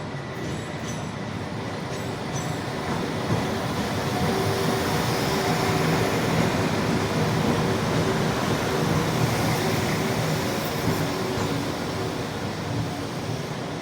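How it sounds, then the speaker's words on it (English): Steady rumble and rattle of a two-carriage Class 172 diesel train in motion in the West Midlands, heard from inside a carriage, continuous and fairly loud with no talking. "a two-carriage Class 172 train which stops at all stations"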